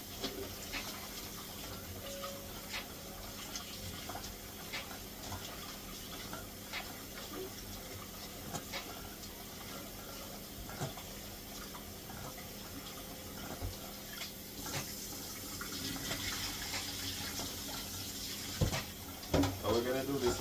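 Running tap water pours steadily into a kitchen sink while rice is washed, a constant close splashing hiss with occasional clinks and a louder slosh near the end, under a person talking.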